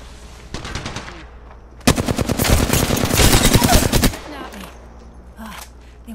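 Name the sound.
gunfire in the Apex Legends video game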